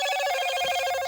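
A mobile phone rings with a steady electronic ringtone, a bright repeating pattern of tones that fills the short moment, clear and close, while work goes on around a large jet engine.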